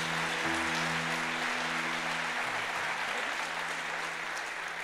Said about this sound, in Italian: Facciamo un applauso a tutti quelli che ci stanno seguendo online.